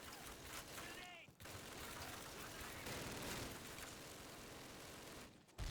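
Dense, continuous gunfire from a Call of Duty battle, with rifle and machine gun bursts packed into a loud, unbroken wall of shots that briefly drops out before resuming.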